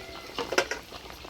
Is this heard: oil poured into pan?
yes